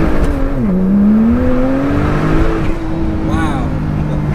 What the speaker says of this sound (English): that's launching with traction control on